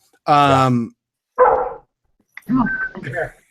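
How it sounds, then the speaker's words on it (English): A dog barks and yelps a few times nearby in a room during a clay and ceramics lecture: one long, harmonic bark followed by shorter bursts, with a person's voice mixed in. "dog."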